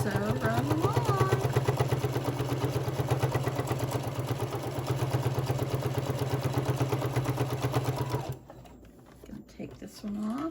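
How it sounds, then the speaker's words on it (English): A sewing machine top-stitches a fabric pencil pouch with a steady, fast mechanical chatter that runs loud and continuous for about eight seconds, then stops, leaving quieter handling sounds. "now I'm just gonna go sew right along"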